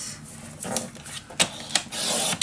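Craft paper is cut with a paper trimmer for a magic box project, heard as rubbing and scraping strokes with a few sharp sliding swipes close by; no one talks.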